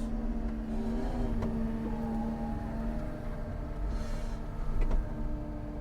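JCB Pothole Pro road repair machine's engine running with revs raised, a steady loud mechanical drone with a constant low hum and whirring tones throughout, no talk.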